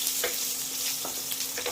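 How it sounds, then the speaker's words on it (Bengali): Panch phoron, dry red chilli, ground mustard, chopped garlic and ginger crackle in hot oil for macher jhol, a bright continuous sizzle broken by a few quick scraping strokes of the stirring spoon. "পাঁচফোড়ন, একটু শুকনো লঙ্কা, একটু গুঁড়ো সরষে, রসুন কুচি, আদা কুচি, এটাকে একটু নাড়াচাড়া করে নেব।"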